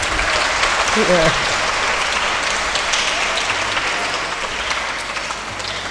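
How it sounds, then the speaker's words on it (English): Audience applause at a college literary festival fills the whole stretch as steady, dense clapping from a large crowd, with a brief voice calling out near the start. "Let's give him a big round of applause"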